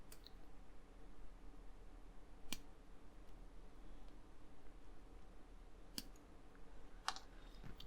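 Plastic model kit parts for a Terminator build being snipped off the sprue, heard as three sharp, separate clicks against quiet room background.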